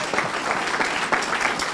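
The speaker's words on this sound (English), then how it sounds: "Let's give them a big round of applause, please." A ceremony audience at the 2015 BOPP closing ceremony breaks into brief, dense applause, close and sustained throughout.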